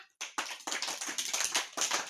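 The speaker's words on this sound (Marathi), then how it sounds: "चला तुम्ही टाळ्या वाजवा" A group of children clap their hands in uneven, overlapping bursts, several sharp claps close together after a brief pause at the start, loud and near with no talking.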